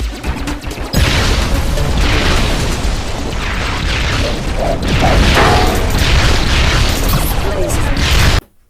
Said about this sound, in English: It's a wonderful effect, and these huge explosions.